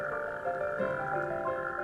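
Natterjack toads calling from a pond at night, a steady overlapping chorus of churring trills that runs without a break at moderate loudness, with no voices.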